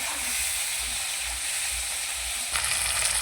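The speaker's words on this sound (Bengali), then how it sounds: "এখন দিয়ে দেবো একটা টমেটো কুচি একটু নাড়াচাড়া করে নেব" Chopped tomato hits a pan of fried spice paste and is stirred, a steady sizzling hiss that flares louder and brighter near the end.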